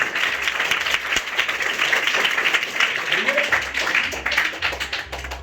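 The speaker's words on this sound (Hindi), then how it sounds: "एक बार ताली बजाइए" An audience claps at a public talk in Surat, Gujarat, a dense, steady patter of many hands lasting several seconds, with a voice and some low rumble mixed underneath.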